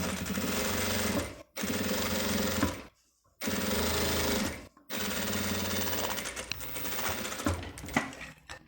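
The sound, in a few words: sewing machine topstitching the lining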